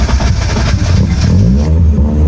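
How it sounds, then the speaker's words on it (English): A BMW E36 318i with a fuel problem, its engine revving up as the gas is pumped, a loud, close, rough mid-range roar with clattery texture that eases toward a steadier idle. "So sometimes you have to pump the gas a teeny bit"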